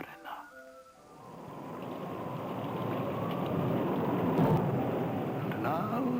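A storm of thunder and heavy rain comes in as a low rumble, swelling into a broad, loud wash of downpour that peaks with a thunderclap near the end, under a man's spoken recitation.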